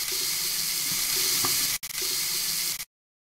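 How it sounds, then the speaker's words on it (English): Running tap water rinsing hands in a virtual reality PPE training simulator, a steady hiss of flowing water with a brief break, then cutting off abruptly into silence. "Rinse hands with water."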